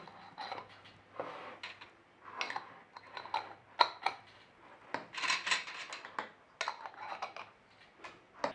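Glass jars of pickled cockles clink and rattle as metal lids are set on and twisted shut, a run of small scraping, ticking knocks close by in a quiet kitchen.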